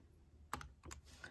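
Keys pressed on a calculator while entering a geometric sequence formula: two or three quick, quiet plastic clicks, close and alone.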